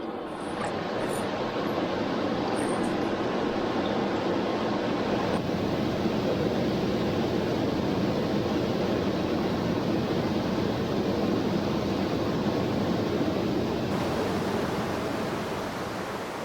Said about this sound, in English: Wow, lots of water coming over the falls today.